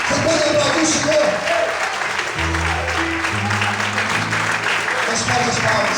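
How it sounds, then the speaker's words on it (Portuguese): A church congregation applauds steadily throughout, a dense wash of many hands clapping at once, with a voice and sustained low tones sounding beneath the claps. "Você pode aplaudir o Senhor?"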